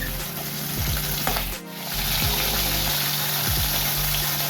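Large singi fish sizzles steadily in a big frying pan, being fried gently rather than crisp; a continuous dense hiss with a brief dip partway through, close and fairly loud, with no talking.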